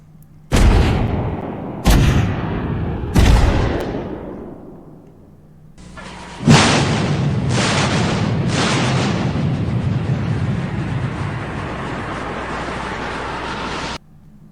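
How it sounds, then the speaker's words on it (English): Battleship main guns firing in World of Warships Blitz: three loud, separate booming salvos from the Iowa with decaying tails, then a long sustained roar of the USS Wisconsin's guns with several heavy blasts over rumbling reverberation. "First Iowa in the game, and then the historical USS Wisconsin."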